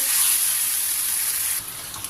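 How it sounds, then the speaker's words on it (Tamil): Water pours into a cooking pot of cauliflower in a steady bright splashing stream that eases off near the end, with no one speaking. "இப்போ ஒரு 1/2 டம்ளர் அளவுக்கு தண்ணி ஊற்றிக்கிறேன்."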